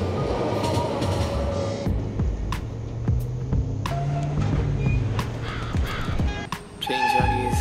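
A passenger train running from Delhi to Kerala rumbles and clatters continuously, with rhythmic wheel knocks, rattling carriage noise and occasional high squeals or horn-like tones near the end.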